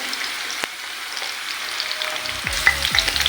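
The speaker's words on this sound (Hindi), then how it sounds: "ये आप देख सकते हैं हमारा प्याज अच्छे से ब्राउन हो रहा है।" Chopped onions fry in a pan while browning for a rice pulao, producing a soft, even sizzle that grows near the end with a few clinks of stirring.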